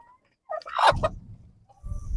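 A single loud chicken call rings out close by, followed by low rumbling noise, with quiet gaps before and after.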